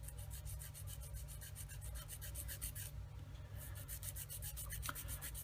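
A plastic part from an Italeri 1/35 Leopard 2 tank kit is wet-sanded on the coarse side of a sanding stick, producing fast, even back-and-forth rasping strokes, soft and close, with a brief pause midway.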